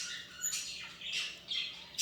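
A handful of shrill squawks and chirps from pet parakeets, clear and close, arriving in short repeated bursts.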